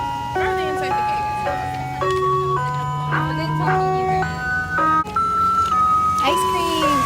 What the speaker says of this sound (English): there was an ice cream truck that was rolling by